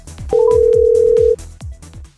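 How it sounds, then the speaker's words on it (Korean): A telephone line while a call is being placed: a steady, loud tone lasts about a second, surrounded by shorter, fainter tonal blips, with no one talking. "전화 걸어야 돼."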